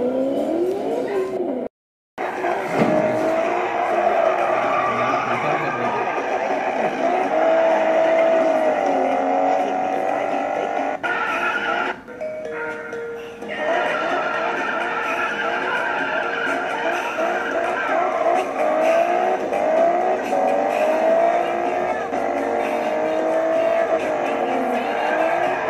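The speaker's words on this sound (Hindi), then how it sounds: "यहाँ पर देख सकते हो कार रेसिंग हो रहा है" Car racing game running on a device indoors, with continuous loud revving engines and screeching, skidding tires, a brief cut-out near the start and a short dip midway.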